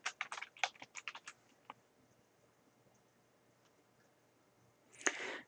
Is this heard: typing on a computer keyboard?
yes